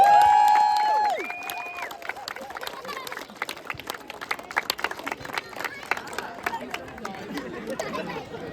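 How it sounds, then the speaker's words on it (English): At a rugby club's under-16 award ceremony, the audience gives scattered applause for the junior committee amid lively crowd chatter and talking, with claps popping through the murmur for several seconds after a brief ringing tone. "Can get a round of applause for them, please."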